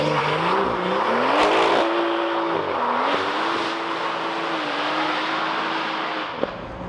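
A 700 bhp BMW M340i engine revs hard under light throttle, a loud, steady droning note that rises and falls with small throttle changes inside the car, with a faint tire squeal throughout.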